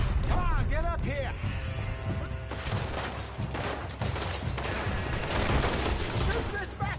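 Gunfire crackles in scattered shots and volleys during a chaotic Red Dead Redemption 2 shootout, mixed with crashes and heard under loud, agitated shouting.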